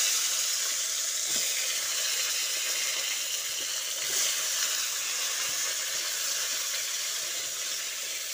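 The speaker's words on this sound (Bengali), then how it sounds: "এবার ওই তেলের মধ্যে ম্যারিনেট করে রাখা বেগুনগুলো দিয়ে দিচ্ছি" Marinated eggplant pieces fry in hot oil, a steady close sizzle and hiss that carries on evenly without a break and with no voices.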